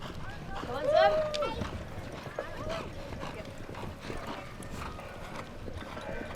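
Horses gallop across the field during an Ireland versus Zimbabwe polocrosse match, their hoofbeats a steady, mid-distance clatter over continuous outdoor background noise, with voices audible in the mix.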